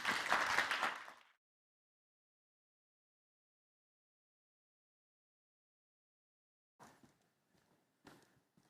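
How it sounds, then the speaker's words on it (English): Audience applause at a TEDx talk event, a loud burst of clapping in the first second that cuts off, followed by long silence and then a few faint scattered sounds near the end. "let's welcome Paul with a warm applause."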